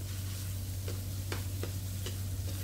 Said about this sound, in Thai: ใส่เนื้อหมูสับลงไป ผัดหมูสับของเราให้สุกดีนะคะ